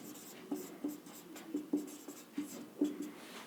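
Chalk or marker strokes on a board while working through a sets problem with Venn diagrams, a series of short scratchy taps and scrapes in an irregular rhythm, close and fairly quiet with no talk over them.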